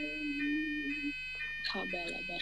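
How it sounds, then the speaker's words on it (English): An electronic alarm sounds at a church service, holding steady high tones throughout beneath a voice that talks and then breaks off. "as we finish, the alarm has come back"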